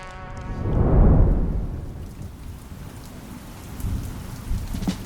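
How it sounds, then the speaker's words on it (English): Heavy rain pours outside a restaurant with a loud rumble of thunder near the start that fades into a steady downpour, with a few faint louder patches toward the end. "Don't know if you can hear or not, but it's busy raining."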